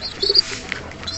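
A racing pigeon gives a few soft, throaty coos, close and clear against a quiet background, with short pauses between the calls.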